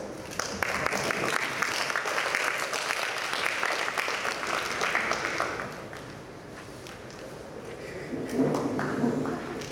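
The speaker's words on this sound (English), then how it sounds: "Round of applause." A crowd at an annual general meeting applauds steadily for nearly ten seconds, a dense wash of clapping that eases slightly toward the end before swelling again.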